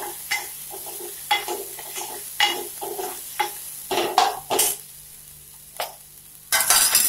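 Chili paste for a cut vada curry is stir-fried in a pan, a spoon repeatedly scraping and clinking against the metal over a soft sizzle, in short irregular bursts with a louder scrape near the end.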